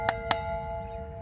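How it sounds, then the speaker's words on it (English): An old schoolhouse bell is rung twice in quick succession, giving two sharp metallic clangs whose tones ring on faintly afterward. The sound is close and fairly quiet, with no talk. "Check out the bell. Ring my bell."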